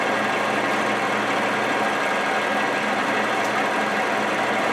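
Metal being milled on an Oliver 25A wood lathe with coolant running: a steady, close mechanical drone and buzzing whir that holds constant throughout, with no talking.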